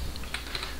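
Quick, light typing on a computer keyboard while a domain name is entered, a short flurry of close, crisp key clicks.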